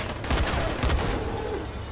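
Rapid gunfire crackles through dense video game combat noise in Dying Light, several sharp shots in quick succession over a continuous loud background.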